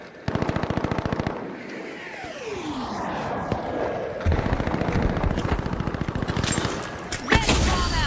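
Bursts of rapid gunfire and sharp single shots from a sniper rifle ring out amid other weapons in a chaotic video game firefight, loud and continuous across the scene with brief lulls and a heavy blast near the end.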